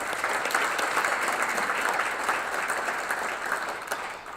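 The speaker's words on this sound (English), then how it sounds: "Let's give them a round of applause." An audience at an Opportunity Zones event applauds its sponsors: a dense, steady wash of many hands clapping, sustained throughout and tapering slightly at the end.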